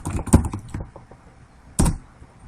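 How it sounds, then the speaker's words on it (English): Keys clatter on a computer keyboard as a name is typed at a DOS prompt, a quick burst of close taps in the first second, a pause, then one more louder cluster of keystrokes. "Then suppose I type my name"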